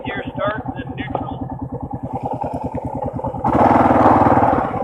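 Honda CB500X motorcycle engine pulses steadily at a low idle-like rumble, then revs louder and harsher for about a second as it pulls away in second gear, with a voice talking over the opening moments.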